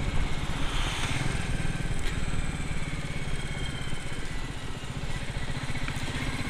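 A Royal Enfield Meteor 350 motorcycle being ridden along a rough stretch of road, its engine thrumming steadily and close with constant road and wind rumble throughout.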